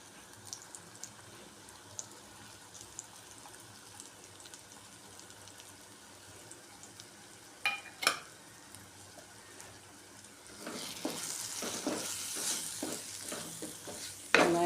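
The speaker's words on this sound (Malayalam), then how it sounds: "നന്നായിട്ടൊന്ന് ഇളക്കി കൊടുക്കാം പൊടികൾ ഏകദേശം എണ്ണയിൽ കിടന്ന് നന്നായിട്ട്" Fish masala spices, chili powder and crushed pepper, fry in oil while being stirred. A faint sizzle carries a few scrapes, then the frying grows louder and busier with repeated stirring strokes toward the end.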